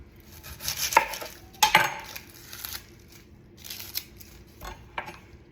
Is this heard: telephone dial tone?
no